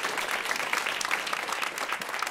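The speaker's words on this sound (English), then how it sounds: "you can applaud for the theater if you want" A theater audience at a congressional event applauds. The clapping is dense and continuous and stays at a moderate, even level for the whole stretch.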